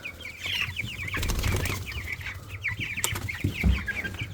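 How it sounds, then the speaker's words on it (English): Chickens cluck and squawk excitedly at a farm feeder while wings flap in bursts, a busy, close flock chorus running continuously with a few sharper thumps near the end. "Chickers love when I come now because they're not getting their feed 24/7."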